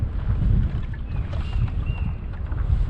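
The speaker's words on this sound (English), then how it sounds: "Fighting this wind would be really tough." Steady wind buffets the microphone on a pedal-drive kayak out on open water, a low continuous rumbling gust with faint water sounds, close and constant.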